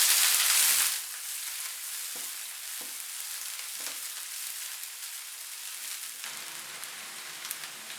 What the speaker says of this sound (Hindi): एक मीडियम साइज की प्याज, इसको मैंने चॉप कर लिया है। इसको हल्का सा पकाएंगे।